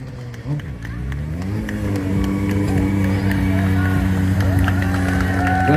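A stunt motorcycle riding during a live show at Parc Astérix, its engine a loud, close, sustained drone that steadily rises in pitch, with a crowd and an announcer's voice over it.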